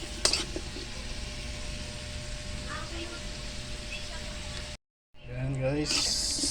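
Squash and mung beans sautéing in a pan for ginataang monggo, a steady close sizzle and hiss with a clatter of stirring, broken by a brief silent cut before louder frying resumes, voices faintly present.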